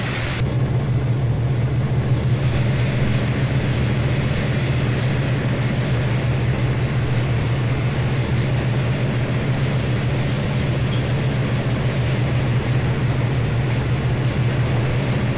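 Simulated train running in the game Train Sim World, a loud steady low rumble with constant engine drone throughout, no speech.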